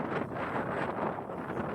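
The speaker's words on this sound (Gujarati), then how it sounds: "બહુ જ પવન છે, લિટરલી બહુ પવન છે." Strong, cold wind roars steadily outdoors beside a frozen lake in Canada, a constant loud rush buffeting the microphone with no voices.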